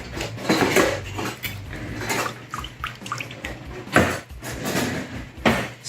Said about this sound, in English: Just trying to agitate the sugar so it dissolves.